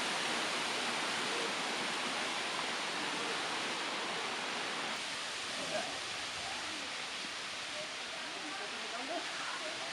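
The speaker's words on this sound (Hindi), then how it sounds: "बहुत ही खूबसूरत पानी का ये झरना है।" Steady broadband rush of a natural waterfall inside a cave during the rainy season, continuous and fairly loud with a slight dip partway through, no talk over it.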